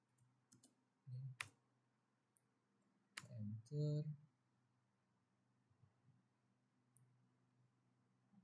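A computer keyboard is typed on at a terminal. A few sparse, quiet key clicks are followed by a short cluster of presses, ending on the enter key, with faint talk in the background.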